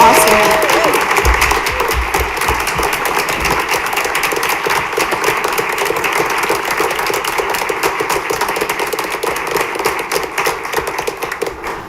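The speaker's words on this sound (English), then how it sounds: "could we just please give another round of applause for all the people that got recognized tonight?" Audience applause at a school board meeting, a steady, dense wash of clapping from a seated crowd that holds at an even level for the whole stretch, with low thumps and a few voices underneath.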